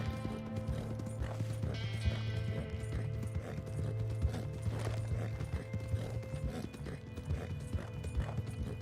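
A horse gallops in Red Dead Online, its hooves pounding in a fast, steady clip-clop rhythm that stays loud and close throughout, with a faint whinny, layered over a low game backdrop.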